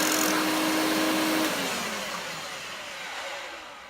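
An Electrolux vacuum cleaner motor whines loudly at first, then spins down, its tone dropping and the sound fading over a few seconds, heard alone without speech.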